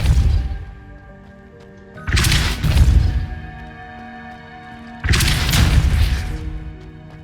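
Spell effects from the video game Hogwarts Legacy, Accio and Depulso: two loud magical bursts about three seconds apart, each a booming whoosh with bright crackling layers that rings out and fades, over a soft game background.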